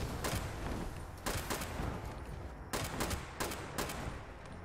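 Gunfire in Fallout 76 aimed at a player inside their own house: several sharp broadband shots in separate bursts over a dense, steady game backdrop, loud and close.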